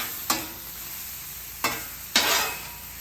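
Vegetables hitting a hot Traeger flat top griddle, three sudden loud bursts of sizzle that fade back to a steady low hiss, close up with no voices.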